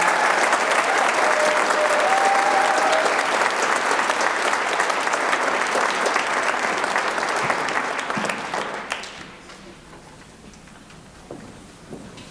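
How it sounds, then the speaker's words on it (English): Loud, sustained applause from a large crowd at a university band and orchestra concert that fades out near the end, leaving quiet room noise. "One more round of applause."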